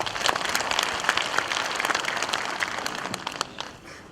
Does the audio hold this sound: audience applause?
yes